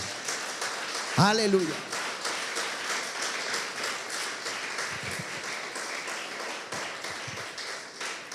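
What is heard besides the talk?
church congregation applause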